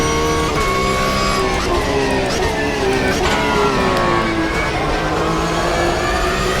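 A race car engine under throttle in the driving sim Automobilista 2, revving loudly and continuously with pitch rising and falling through gear changes and throttle shifts.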